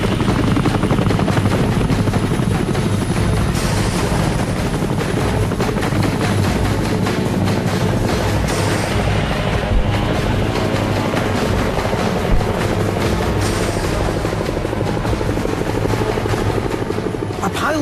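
U.S. military helicopters fly during the Vietnam War, their rotors thumping loudly and continuously close by, with wind buffeting the microphone and a voice speaking over the steady chopping roar.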